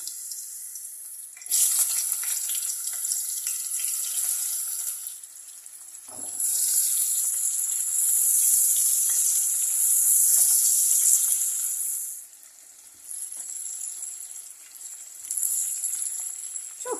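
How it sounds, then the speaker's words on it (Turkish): Loud, bright sizzling of eggplant frying in hot oil in a pan, surging and easing in waves, with an occasional utensil knock. "Tavada yağ ısındı. Şimdi patlıcanları ilave ediyorum."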